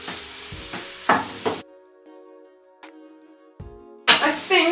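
Half an onion stirs and sizzles in a pan for a tofu scramble, with a few close scraping strokes, a quieter stretch carrying a faint tonal hum, then a loud burst of frying and scraping at the end.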